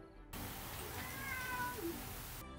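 A single cat meow in a video game, a rising then falling cry standing out over low background game ambience, fairly close and clear.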